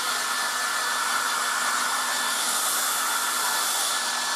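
A 1980s Black & Decker Stowaway travel hairdryer runs continuously up close, giving a steady airy rushing roar with a faint motor whine underneath and no talking.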